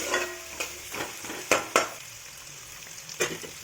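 Onion and green chilli sautéing in coconut oil in a pan, with a soft continuous sizzle broken by several sharp scraping stir strokes, close and moderately loud, with no talking.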